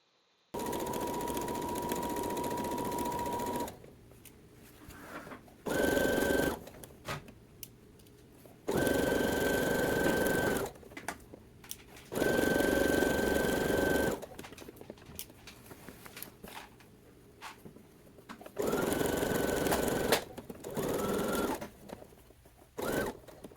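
A sewing machine stitching vintage-inspired summer dress pieces together runs in several loud, steady bursts of motor whir, each lasting a few seconds and separated by short quiet pauses, close by and alone.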